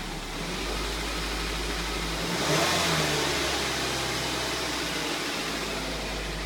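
Ford Focus engine running while the transmission fails to engage, a steady close hum that swells in a brief rev midway and settles back to idle, no voices.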